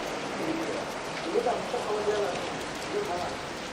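Heavy rain falling in Hyderabad, a dense, steady hiss of drops striking surfaces that stays constant throughout, with faint voices underneath.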